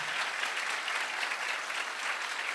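Continuous applause from a church congregation during a sermon, dense and even throughout with no breaks.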